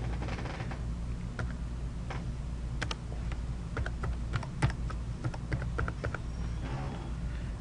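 Typing a password on a computer keyboard, a run of quick light key clicks close by over a steady hum of room noise.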